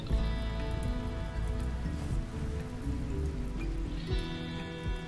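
Rain falls steadily in the video game RimWorld, a continuous dense patter of drops lying under a layer of game music and ambient tones throughout.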